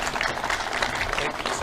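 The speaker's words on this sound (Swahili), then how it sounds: "Tumpigie makofi." An audience at a public gathering in Kenya bursts into applause, dense and sustained clapping that fills the whole moment, loud and close.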